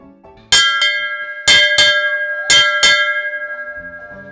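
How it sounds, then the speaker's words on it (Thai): A mealtime bell is struck four times in two pairs, each clear metallic strike ringing out and decaying slowly, loud and close. "ระฆังดังแล้วถึงเวลาทานข้าวแล้วนะครับ"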